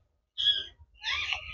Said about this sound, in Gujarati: તમે વોઇસ સાંભળો પક્ષીઓનો